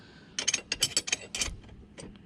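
A ratchet with a deep socket clicks in quick bursts of sharp, close ratcheting strokes, pausing briefly between sets, while loosening a 10 mm fastener on a Sea Doo Spark watercraft.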